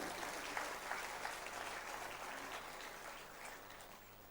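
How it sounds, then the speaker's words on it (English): Sustained audience applause at an inter-religious meet held during a novena at the Basilica of Bom Jesus, a broad, fairly distant wash of clapping from a large crowd that slowly tapers off toward the end. "Can I please request you all to give them a big round of applause?"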